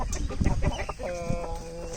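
Several hens cluck close by, short choppy calls overlapping, ending in a drawn-out tonal cluck.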